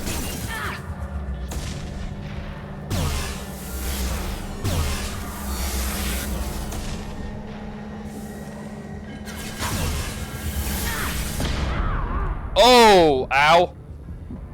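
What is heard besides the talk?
gunship flying overhead in video game Mass Effect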